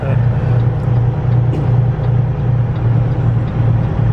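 Bobtail semi truck driving through heavy snow, its engine giving a steady low droning hum with a pulsing rhythm, loud and close, with faint background noise.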